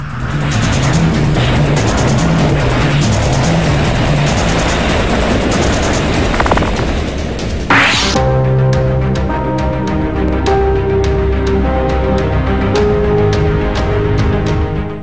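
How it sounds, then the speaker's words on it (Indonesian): A National Airlines Boeing 747-400 cargo plane failing on take-off and crashing at Bagram Airbase: loud, continuous engine roar with a sharp sweeping burst midway, then a steady droning hum and tonal whine. "Detik-detik jatuhnya pesawat National Airlines B747-400 di Bagram Airbase"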